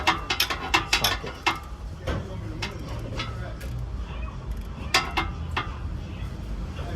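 Ratchet wrench with a big socket working on an oil leak repair: repeated close, sharp ratchet clicks in quick bursts, with metallic clinks and a voice speaking over the work.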